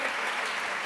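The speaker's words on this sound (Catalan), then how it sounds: "No, no cal aplaudir, sisplau." An audience applauds at an award ceremony, a dense, steady wash of clapping from a full room that carries through the whole clip.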